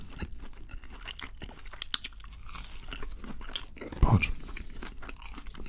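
Someone crunches and chews Burger King fast food close to the microphone, soft crisp bites and chewing noises with one louder crunchy bite near the end, a single spoken word just before.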